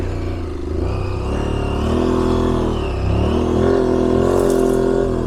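A motorcycle built for off-road riding crosses a dry wadi in Morocco on the Merzouga to Zagora stage, its engine droning steadily and loud throughout with a slight rise in revs toward the end.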